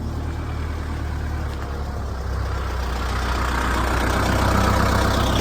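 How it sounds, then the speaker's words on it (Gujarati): A tractor engine idles steadily at close range, a continuous low rumble that grows slightly louder toward the end, with no talking over it. "તો મિત્રો આપણે ટ્રેક્ટર આવી ગયું છે તો આપણે ટ્રેક્ટર ને ઊભું રાખો"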